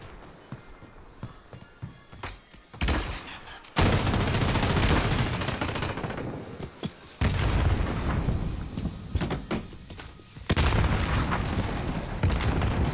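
Light machine guns fire in a Call of Duty 2v2 Gunfight match: long, loud sustained bursts of rapid shots trade back and forth in several waves, separated by brief quieter gaps.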